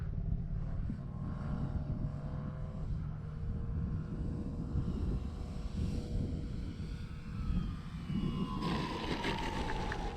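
An Avios King Twin RC twin-engine airplane, 1700mm wingspan, on its second flight, drones steadily overhead with a continuous engine whine that shifts in pitch as it passes, with some wind noise on the microphone.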